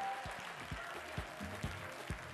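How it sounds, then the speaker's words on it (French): Faint, steady patter of studio audience applause on a French-language Ivorian TV variety show, with a few soft low thumps. "Public, merci d'applaudir."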